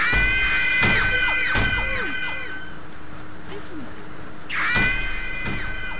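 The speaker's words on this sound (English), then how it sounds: "she could break glass with that scream" Shrill, piercing monster screams from the video game Killing Floor, set aboard a moving train, ring out loudly in two bursts separated by a quieter stretch.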